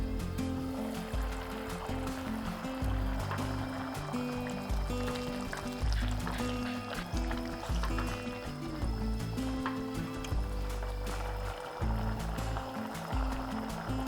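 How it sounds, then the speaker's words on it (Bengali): Biuli (urad) dal boils in a covered pot, giving a continuous loud bubbling and gurgling with rhythmic low thumps of the simmering lid throughout. "এরপর ঢাকা দিয়ে ডালটাকে সিদ্ধ করে নিচ্ছি।"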